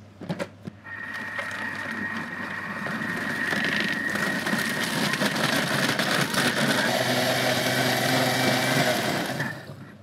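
A kitchen blender starts up and runs loudly while puréeing squash risotto, a steady high-pitched whirring motor with grinding texture that holds for several seconds, then cuts off near the end.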